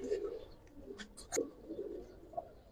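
Pigeons coo softly in a few low, throaty bursts close by, mixed with brief clicks and shuffling against quiet background noise.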